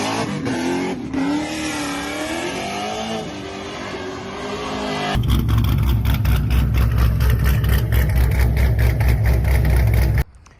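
A 2013 Chevy Caprice PPV police sedan with a 6-liter V8 revs and runs loudly and close by, a lighter engine note giving way midway to a deeper, steady, throbbing roar that holds until the end.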